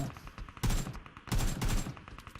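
AK rifle fire in a mobile shooter game played on an iPhone 16 Pro Max: two loud, rapid automatic bursts separated by a short pause, close and punchy, with faint background game sounds.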